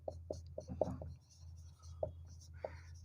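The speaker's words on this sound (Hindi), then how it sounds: "मैं लिख रहा हूं" Chalk or marker strokes on a board during a maths lesson on circle theorems, a series of short, close scratchy taps, with a quiet voice in the background.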